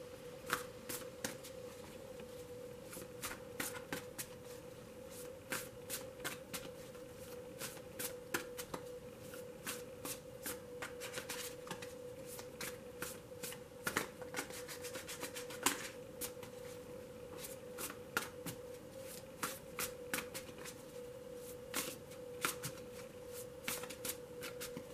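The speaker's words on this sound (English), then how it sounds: "Please bear with me as I shuffle." Steady riffling of a tarot deck being shuffled over and over, crisp rapid flutters in bursts against a faint constant hum.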